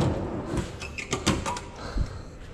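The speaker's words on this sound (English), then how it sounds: "and you got another slide drawer." A slide drawer in a PMX camper trailer is pulled along its runners, with several short rattling knocks and a thud over about two seconds, heard up close.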